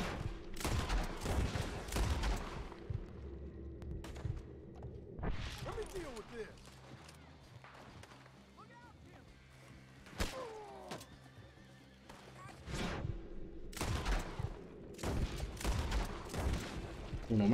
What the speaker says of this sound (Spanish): A ese le tiene que meter cuatro disparos